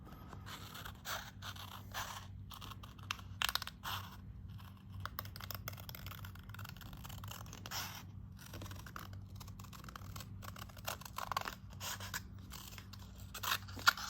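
Scissors rough-cutting a circle shape for a homemade game spinner, a quiet run of snipping and scraping cuts in an irregular rhythm, close up, with no talking.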